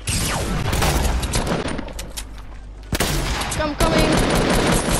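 Dense Fortnite Battle Royale gunfire, rapid bursts and loud cracks packed close together with a sharp blast near the middle, while a player speaks briefly over the shooting.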